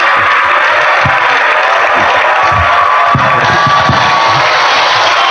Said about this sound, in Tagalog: Palakpak mo, palakpak mo.